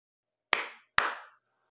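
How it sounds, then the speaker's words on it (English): Two sharp, isolated hand claps ring out about half a second apart in a quiet room, each with a short reverberant tail. "clap twice to turn on the lights"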